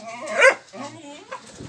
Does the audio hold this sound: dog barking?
yes